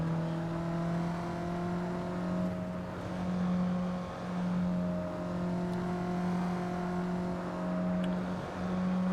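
A Mazda MX-5 race car at full throttle down the straight at Lime Rock gives a steady, droning engine note with a gently wavering pitch, heard from inside the car at moderate level with no talking.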